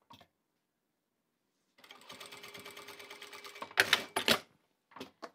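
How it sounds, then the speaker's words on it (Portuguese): A sewing machine stitching the corner of a fabric table runner, with a close, steady rapid run of needle strokes, then a few louder clunks and short bursts as the stitching stops and restarts. "agora a gente vai começar a costurar"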